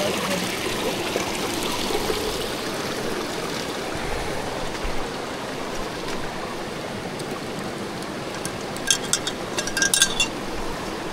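A clear jungle stream flows steadily nearby, a constant broad rush with some brief clinking toward the end.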